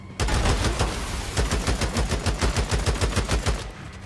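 Rapid automatic gunfire from the zombie-survival video game Days Gone, a loud sustained burst of closely spaced shots rattling continuously for several seconds with no talk over it.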